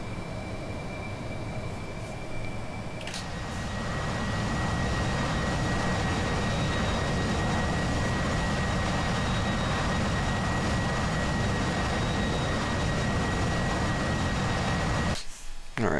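Harrier jet engine in DCS World, a loud, steady roaring drone that swells after a few seconds and holds, with a high whine running through it.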